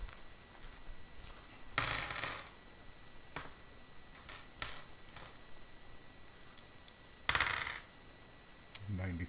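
Dice clattering and rolling across a table during Dungeons & Dragons session prep, a few rattling bursts and scattered clicks up close with quiet pauses in between.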